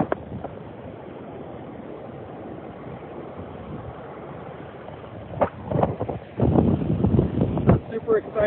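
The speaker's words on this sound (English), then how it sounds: "And it is pretty windy tonight." Strong evening wind buffets the microphone with continuous rumbling gusts outdoors during kite flying, with a person talking over the later part.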